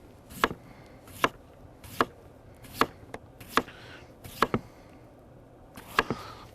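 A knife chops potatoes on a cutting board in eight sharp, evenly spaced strikes, close and loud, with no talk.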